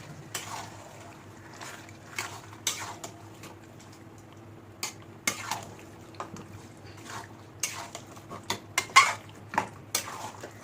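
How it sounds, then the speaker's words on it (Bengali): A spoon scrapes and clinks against a pan in irregular stirring strokes, mixing Kashmiri red chilli powder and spices for handi chicken, with a low steady hum underneath and no talking. "কাশ্মীরি লাল লঙ্কার গুঁড়ো কালারের জন্য দিয়ে নাড়বো এবার ভালো করে"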